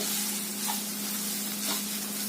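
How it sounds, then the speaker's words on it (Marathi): Masala being stirred into a cluster bean curry in a pan, a steady close sizzle with soft scraping strokes of the spoon and a low constant hum in the background. "हा चांगला मसाला मिक्स करून घेऊया त्यामध्ये."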